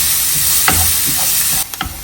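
Chopped onions sizzle steadily in hot coconut oil for a Kerala snack, with a few sharp scrapes and knocks of a stirring utensil near the end, close and continuous, no voices.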